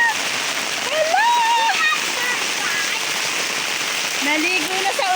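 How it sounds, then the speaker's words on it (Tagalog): Heavy rain pours down in a dense, continuous wash of noise while voices call out and talk over it. "Naligo na sa ulan."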